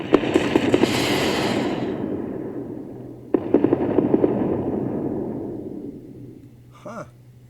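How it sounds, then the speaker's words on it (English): Missile strikes in the space strategy game Endless Space 2 go off as two bursts of crackling explosions, each a rapid cluster of booms that trails off into a fading rumble, followed by a brief tonal chime. "Those missiles didn't even hit."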